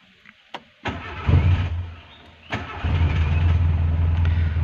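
A manual-transmission car engine cranks over and catches, then settles into a steady low idle, preceded by a few clicks and a brief clunk.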